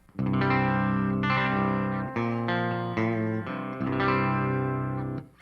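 Clean electric guitar with EMG pickups playing sustained chords, ringing clearly with a touch of chorus and echo, changing chord every second or so.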